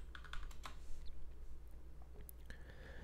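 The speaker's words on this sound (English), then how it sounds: "type in your password" A password is typed on a Mac computer keyboard in a quick burst of close key taps, followed by a pause and a few more scattered keystrokes, soft and nearby.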